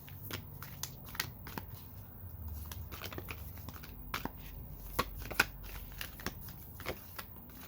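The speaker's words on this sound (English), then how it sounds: "I'm gonna pull a card or two or whatever comes out." Tarot cards being shuffled by hand up close, a series of crisp snapping riffles and soft paper flicks at an uneven pace, quiet and without any talking.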